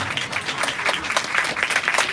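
Church congregation clapping loudly for the Holy Spirit, a steady dense patter of many hands at moderate distance, with no talk over it.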